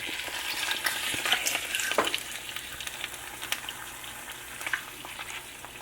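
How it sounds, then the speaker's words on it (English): Protein eggs fry in a pan with a bright, crackling sizzle, punctuated by a few sharp spatula knocks and scrapes as they are flipped, then settle into a quieter, steady hiss. "Now, I'm gonna go ahead and flip the eggs."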